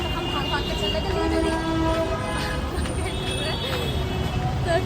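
A metro train pulls into a busy station amid crowd chatter, with loud tonal squeals and horn-like tones from the rails over a rumbling low roar while people talk nearby.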